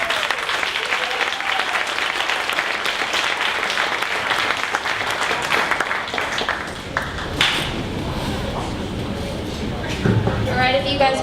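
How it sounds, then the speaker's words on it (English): At a 1 Million Cups Dallas startup pitch event, a room claps for the Travabond presenters: dense applause for about seven seconds, then thinning to scattered claps and room noise with faint murmuring. "One more round of applause for Travabond"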